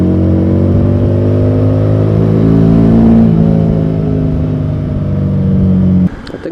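Harley-Davidson Street 750 motorcycle exhaust while riding, a loud, steady engine drone that rises slowly in pitch, then cuts off abruptly near the end.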